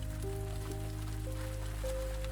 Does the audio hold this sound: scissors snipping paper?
no